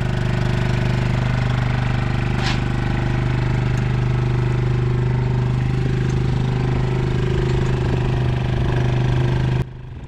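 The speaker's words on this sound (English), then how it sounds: "today we're pulling the crush with the quad bike" A KVK quad bike engine runs steadily while towing a cattle crush on a farm, giving a loud, even throbbing hum with a faint rattle and one brief sharp knock, before the engine cuts abruptly near the end.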